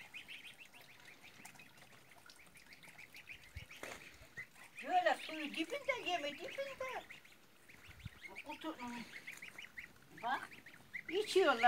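Several geese and other farmyard fowl honk and quack in short bursts, close by, with the calls rising and falling over a soft outdoor background.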